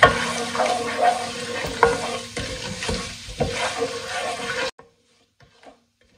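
Close sizzling of cumin seeds frying in oil with steady scraping and clinking as a spoon stirs the pan, stopping abruptly into near silence.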